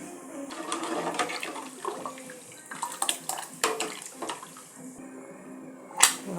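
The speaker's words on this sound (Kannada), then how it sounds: "ಇವಾಗ ನಾನು ನೀರು ಹಾಕ್ಕೊಳ್ತಾ ಇದ್ದೀನಿ." Water poured into a pressure cooker while making vegetable pulao, a close splashing, gurgling pour that rises and falls in uneven bursts.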